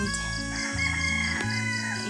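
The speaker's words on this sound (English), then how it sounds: "there are lots of rooster in my background" Roosters crowing in the background of a home where someone is crocheting, a steady, fairly loud crow sustained across the short clip with tonal, drawn-out calls.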